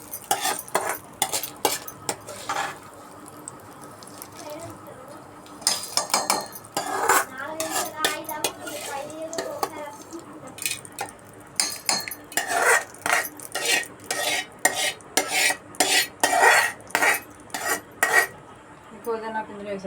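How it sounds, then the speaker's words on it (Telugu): Fried mint leaves and other fried ingredients tipped into a steel mixer jar, with repeated clinks and scrapes of a spoon against metal, loud and close, in bursts without talk. "మిక్సీ జార్లో వేసేసుకున్నాం."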